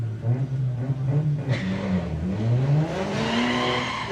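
A Volkswagen drag car at Bug Jam 2024 qualifying launches off the line and accelerates hard, its engine note climbing through rising revs and a gear change, loud and close with a brief tyre chirp.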